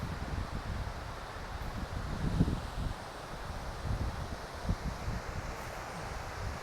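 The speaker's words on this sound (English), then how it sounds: "We've got some pretty good onshore wind" Strong onshore wind at a beach at high tide, a constant low roar buffeting the microphone with occasional stronger gusts, fairly faint overall and without speech.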